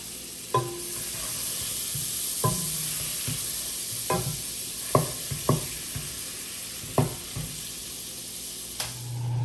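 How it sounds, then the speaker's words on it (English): Butter melting in a pan with cooked minced beef for a white sauce, a soft continuous sizzle with a handful of spaced scraping stirs of a utensil, close by, with no talking. "I'm now gonna go ahead and add 113 grams of butter, right? And we're gonna make a white sauce."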